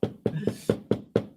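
Six firm, evenly spaced knocks on a door, hollow and close, in a quick steady rhythm with nothing else heard.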